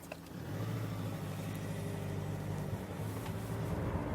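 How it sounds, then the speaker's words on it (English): A 2016 Volkswagen Caddy diesel engine rumbles to life after a brief start, settling into a steady, low, throbbing idle that stays even and close for several seconds with no speech over it. "Twist the key, and there's the usual diesel rumble at startup"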